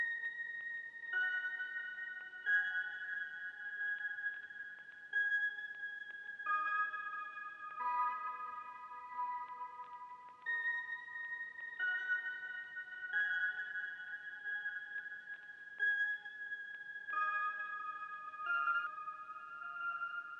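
Soul sample treated with delay and flanger, with a mellotron bell layered in, a thin, sustained wash of high tones that shifts between chords, quiet and steady with faint echoing repeats and no voices.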